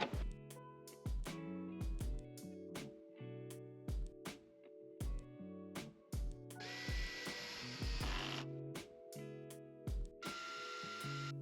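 A torque drill drives Loctite-coated bolts into Rivnuts inside a Ford Transit van, with repeated short whirring bursts and a louder, rougher stretch near the middle, close and with no talk.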